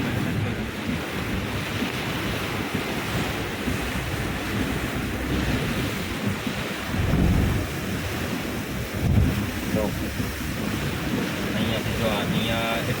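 A steady, heavy roar of rushing water fills the whole stretch, with occasional louder surges and a constant wind-like hiss.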